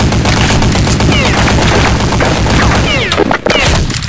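Loud, dense automatic fire from an M4A1 rifle in Counter-Strike 1.6 rattles without pause, close and harsh, with a brief dip near the end.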